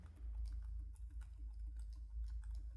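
Computer keyboard keys tapped in short irregular bursts while writing JavaScript code, faint and close against a low steady hum.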